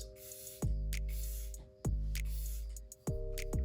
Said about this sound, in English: I get that spray again